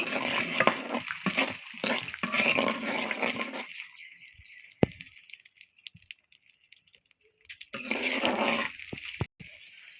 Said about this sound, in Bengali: এখানে একটা রসুন আর কিছুটা আদা কুচি এগুলো দিয়ে দিব এবার এগুলোকে লাল করে নিব